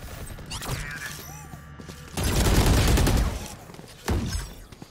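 Weapon fire crackles in a Valorant round, with a loud sustained burst of shots in the middle and a sharp single crack near the end, set against quieter game ambience.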